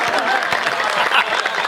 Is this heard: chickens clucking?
no